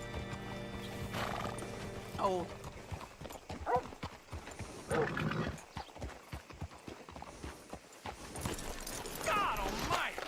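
Horse whinnying and hoofbeats clopping in Red Dead Redemption 2, a western video game, with several neighs over steady hoof clatter, game music and a brief spoken word.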